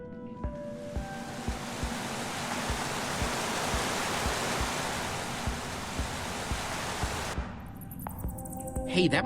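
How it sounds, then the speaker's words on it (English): Steady rushing waterfall in Minecraft Story Mode, a broad continuous roar of falling water with soft rhythmic thumps underneath, cutting off near the end. "I first met Reuben near a waterfall like this."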